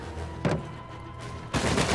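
Gunfire in the video game Uncharted 4 comes as two loud bursts, a short blast early on and a longer roaring one near the end, over a steady background hum.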